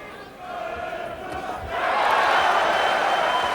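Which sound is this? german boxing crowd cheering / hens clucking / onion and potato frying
german boxing crowd cheering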